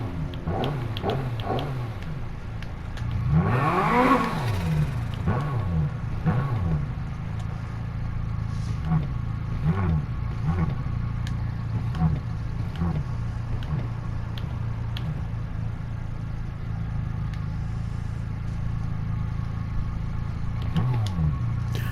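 A Volvo Amazon P130 set up as a drag car in Need for Speed Heat revs repeatedly, its engine climbing and dropping in loud, close bursts over a steady idle rumble.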